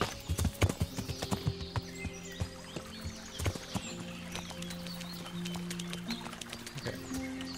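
Horse hooves clip-clopping in the video game Kingdom Come: Deliverance, a quick uneven run of close hoofbeats that thins into softer, sparser steps, with a faint steady tone beneath.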